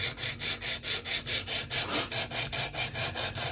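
A Kizer Begleiter knife edge is drawn across a sharpening stone in steady, evenly spaced rasping strokes, about four per second, close and fairly loud with no talking.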